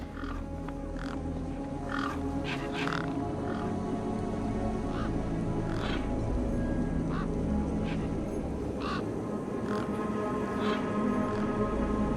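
Birds squawk and honk in a dense, continuous game soundscape from Beyond a Steel Sky, with repeated harsh calls rising over a steady background bed throughout.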